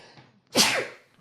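One sharp, close sneeze, a quick intake followed by a loud burst of breath that fades within half a second in a quiet room.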